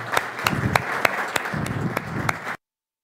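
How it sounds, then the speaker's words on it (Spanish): An audience at an annual weed-science meeting claps for a speaker, a moderate patter of applause with a few sharper single claps standing out, ending abruptly. "Le damos un fuerte aplauso."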